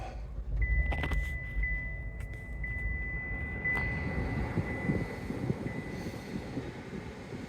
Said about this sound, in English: to start the vehicle up, just simply put your foot on the brake and hit the button to go